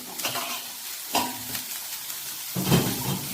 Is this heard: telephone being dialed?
no